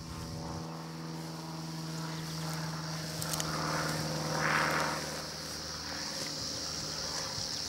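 A propeller airplane drones steadily overhead, its engine hum swelling briefly toward the middle before settling back to a constant tone.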